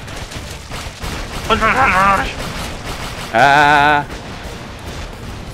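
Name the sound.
rocket explosions and gunfire in the video game ExpendaBros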